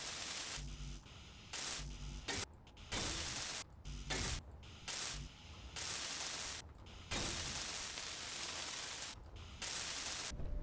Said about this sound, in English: let's start welding up